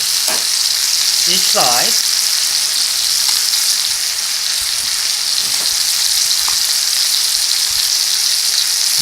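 Pork chops frying in a pan, a loud continuous sizzle up close, with a brief spoken remark near the start riding over the crackle.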